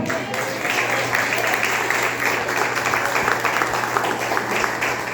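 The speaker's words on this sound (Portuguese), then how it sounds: "Quem pode aplaudir ao Senhor?" A church congregation applauds during a Sunday service. A steady, dense wash of clapping from many hands sustains evenly throughout, with a low hum underneath.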